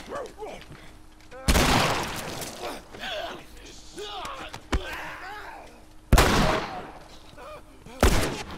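Loud gunshots ring out in The Last of Us Remastered, about four sharp blasts spaced a couple of seconds apart, over ongoing in-game voices and a player talking.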